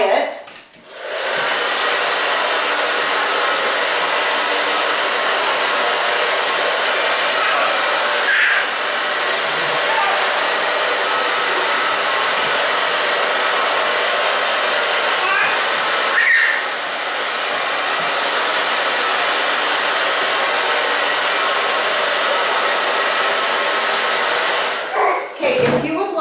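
A hair dryer blows a steady, loud whooshing roar while drying a little girl's hair, running continuously with brief dips as it is moved, and no speech over it.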